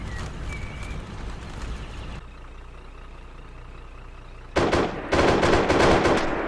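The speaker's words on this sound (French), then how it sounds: "J'entends des tirs." Gunfire in the Arma 3 military game: a rumbling stretch of shots and engine noise, then a quieter pause, then loud, dense bursts of firing close by.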